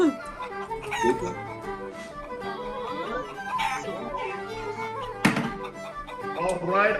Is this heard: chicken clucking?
yes